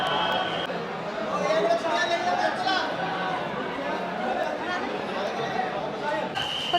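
Crowd of devotees chattering in the darbar of the Akkalkot temple, a steady dense babble of many overlapping voices close around throughout.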